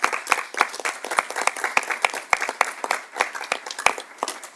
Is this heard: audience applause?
yes